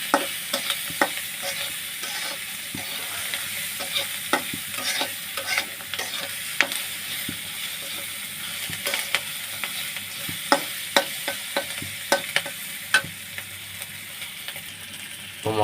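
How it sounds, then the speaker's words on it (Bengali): Turmeric, chili powder and salt frying in oil in a pan for a rohu fish curry, with a continuous soft sizzle and frequent quick clicking and scraping stirs close by, no voices. "তো এখানে আমি হলুদের গুঁড়া, মরিচের গুঁড়া, লবণ অ্যাড করে দিয়েছি। আমি এটা ভালো করে ভেজে নিব।"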